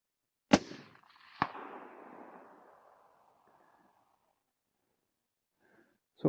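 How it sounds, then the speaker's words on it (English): A suppressed Remington 700 rifle in .223 fires at a 6 by 7 inch steel plate at long range: two sharp reports with a rolling echo that fades out, then a faint distant clank and another report at the end. "shoot this 6 by 7 inch plate real quick"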